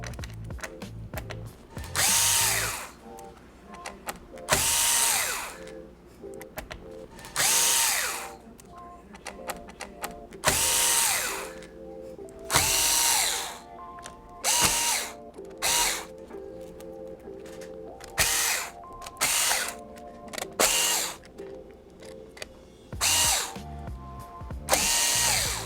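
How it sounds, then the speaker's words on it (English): A power screwdriver drives screws out of a Lenovo 100E G3 Chromebook, about a dozen loud whirring bursts, each a couple of seconds long, separated by short quiet gaps. "you can go around and take all of the screws out"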